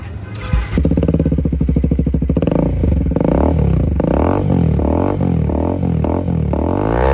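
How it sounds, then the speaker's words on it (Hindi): Bajaj Pulsar NS400 motorcycle with a Two Brothers exhaust and no dB killer, starting up into a rumbling idle, then revved repeatedly in quick rising and falling bursts, loud and up close. "और यहाँ पर आ चुका है टू ब्रदर का, इसका साउंड सुनते कैसा है।"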